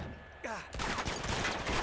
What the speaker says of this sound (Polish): Dobra, mamy strzelaninę.